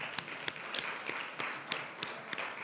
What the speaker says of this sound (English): I kind of want us to give a round of applause for that